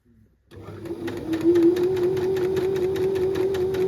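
A sewing machine runs steadily while stitching a rolled hem on a shirred-waist skirt. Close and continuous, it whirs at an even pitch with a fast rhythmic ticking that starts after a brief quiet moment and holds at a constant level.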